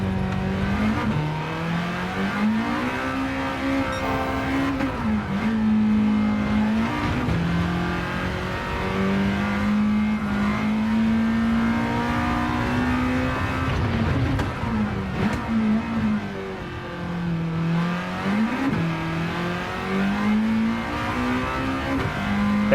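A race car engine in Gran Turismo 7 revs hard and steadily through the gears, a loud, continuous in-game drone that rises and dips with each shift and acceleration.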